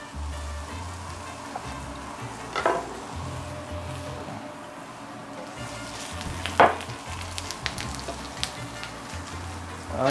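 Onions frying in a hot pan for steak tacos, a steady low sizzle with a couple of sharper scrapes and clatters as they are stirred, no voices.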